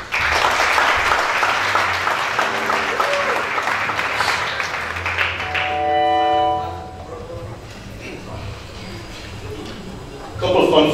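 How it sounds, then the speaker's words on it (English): Guests at an 81st birthday celebration at El Caribe in Brooklyn, New York clap together in loud, sustained applause for about six seconds, with music notes sounding as it fades and a voice resuming afterward. "A round of applause, please."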